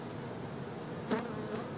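Honeybees hum softly around their hive, a faint steady buzz with a couple of brief nearer passes of individual bees.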